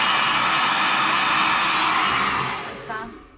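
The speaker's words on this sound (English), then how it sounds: "blow dry it again just while it's up there" A hair dryer blows with a loud, steady rushing whir, then winds down and fades near the end.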